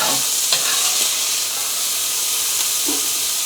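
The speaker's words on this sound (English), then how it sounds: "this batch is ready to come out, and we'll start to fry up the next" Continuous bright sizzle and hiss of a batch frying in a pan while making chili, steady and close with a few light clinks, no talking.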